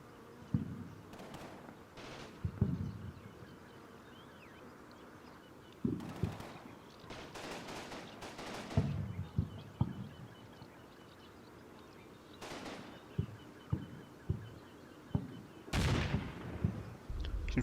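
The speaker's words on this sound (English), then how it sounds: "these guys are actually going to fire that 2-inch mortar" A British 2-inch mortar and other weapons firing in the Combat Mission wargame near a hill at 8:30 am, scattered thumps and distant bangs spaced irregularly across a quiet battlefield ambience.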